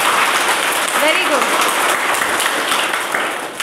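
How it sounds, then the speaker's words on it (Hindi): A church congregation at a gathering in Arunachal Pradesh breaks into loud, sustained applause that fills the room close up, with a voice speaking briefly over the clapping before it begins to fade. "प्रभु को जोरदार एक ताली मारेंगे."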